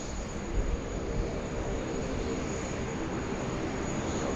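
An airliner taking off on runway 16 right at Sydney Airport, a broad, steady engine roar with a thin high whine, constant and fairly loud from a distance, with no voices.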